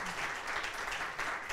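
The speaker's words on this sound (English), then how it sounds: "So give them a warm round of applause." Audience at a Hungarian STEM Platform Conference clapping for the panelists, a brief, fairly faint burst of steady, dense applause from a roomful of people.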